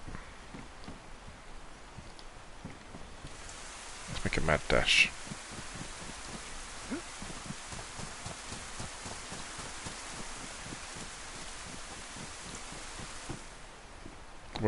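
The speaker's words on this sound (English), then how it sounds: "Just want this rain to stop." Rain falls steadily in the DayZ survival game, a constant hiss with patter, while someone talks and a brief louder rustle of movement rises midway.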